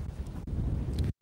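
Strong wind buffets an outdoor park at a waterfront tip in Tokyo, a loud continuous low rumble of gusts battering the microphone, with a brief dropout near the end.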